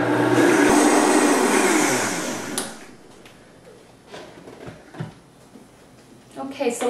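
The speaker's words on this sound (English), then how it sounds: "I'm just gonna blend it until the chia seeds are broken down and the cashew butter has been churned into a liquid" A blender whirs loudly and close for about two and a half seconds, working chia seeds and cashew butter into a chai latte. It then stops, leaving quieter clinks and handling noises.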